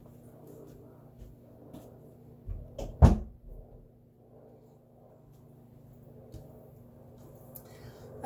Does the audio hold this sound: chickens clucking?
no